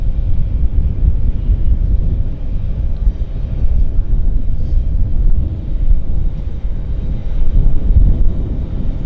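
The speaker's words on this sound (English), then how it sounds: "It's an Embraer Legacy 600 is what they call it. There it is, rolling." An Embraer Legacy 600 business jet rolls along the runway at Vancouver airport, its engine roar a steady, loud, low rumble blended with wind buffeting the microphone.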